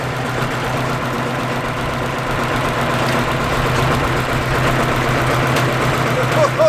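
A heavy diesel tractor engine idles steadily nearby while loading, with a low, throbbing rumble that stays constant throughout.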